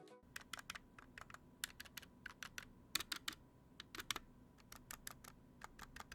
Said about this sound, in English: the included stabs are not exactly great. They come slightly lubed, but not enough to avoid rattling.